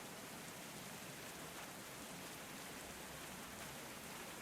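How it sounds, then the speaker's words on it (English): Torrential rain pours down in a dense, even hiss that stays steady throughout, faint and alone. "The rain fell down on them with a torrential force"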